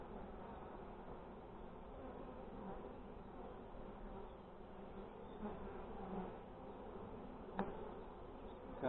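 Honey bees buzz steadily around an open Dadant hive during an inspection on a stormy day, a dense continuous faint hum with a few brief knocks near the end, no speech.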